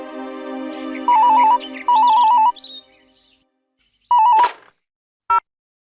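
Electronic keypad beeps and a phone ring tone sound in short bursts, separated by pauses, with music playing underneath at first.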